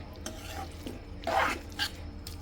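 Spiced mixed vegetables being stirred and roasted in a pan for veg biryani, with soft scraping strokes and a brief louder burst of sizzle in the middle, close and moderately quiet with no talk.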